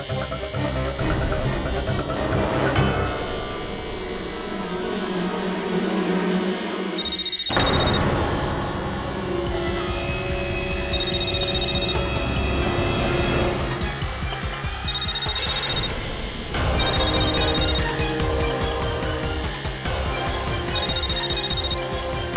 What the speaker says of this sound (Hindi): तो वो फोन इसी कमरे में बजेगा।